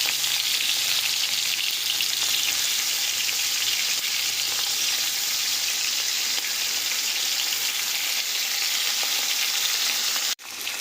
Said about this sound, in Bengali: কড়াতে আমাদের তেল গরম হয়ে গেছে এতে এবারে চিংড়ি মাছগুলো দিয়ে ভেজে নেব